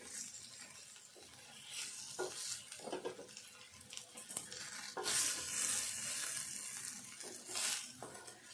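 A spoon stirs chamagadda (taro root) curry in a pot with soft, irregular scraping and sloshing strokes, faint and close, with a light sizzle beneath.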